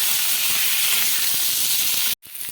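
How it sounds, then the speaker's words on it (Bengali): Potatoes and eggplant frying in oil over a medium flame, a loud, steady broadband sizzle and hiss that cuts off abruptly near the end, then resumes more faintly. "এখন আমি আলু বেগুন আর যা যা নিয়েছি সব কিছু দিয়ে দিচ্ছি এবারে দিয়ে আমি এগুলোকে একটু মিডিয়াম ফ্লেমে রেখে ভাজতে থাকবো"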